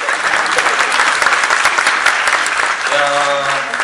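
Sustained applause fills a concert hall as team member Henri is introduced on stage, a thick crowd of clapping hands close by, with a faint voice and tonal hum creeping in near the end.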